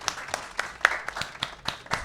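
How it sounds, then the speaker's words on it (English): Sparse, slow clapping from a few hands, about eight separate claps at an even rhythm, faint and close, in appreciation of a girl who wants to become a teacher. "I clap it up for that"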